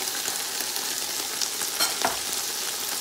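Green, yellow and red bell peppers frying and being stirred in a pan for turkey fried rice, a steady broad sizzle with a few scraping stir strokes, close and fairly loud.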